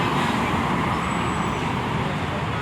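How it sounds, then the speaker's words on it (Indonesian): Busy Jakarta road traffic with a TransJakarta corridor 2 bus among the vehicles, a loud continuous roar of engines and tyres close by, with a faint thin whine passing briefly. "Dan itu ada Transjakarta koridor 2 tuh yang ke Monumen Nasional."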